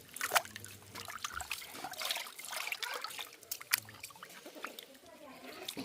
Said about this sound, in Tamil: இப்போ நான் வந்து பருப்பை வந்து கழுவுறேன்